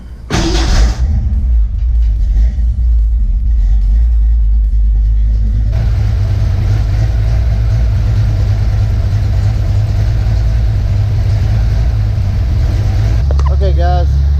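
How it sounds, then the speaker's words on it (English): A Foxbody Mustang engine cranks and catches, then settles into a steady, loud, low idle that rumbles close by for the whole stretch, with a brief shift in pitch near the end. "what we're going to do now is start the car and check the timing"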